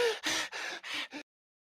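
A voice imitates heavy, fearful breathing: five quick, harsh breaths in a row, close and fairly loud, then sudden silence.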